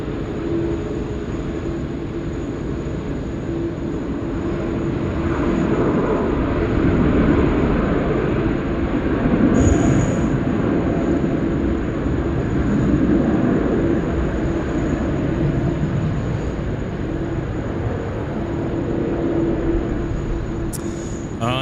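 Qantas airliner taking off from runway 16 right at Sydney Airport, heard from a distance as a sustained broad jet roar that slowly swells and eases, with a faint steady whine above it.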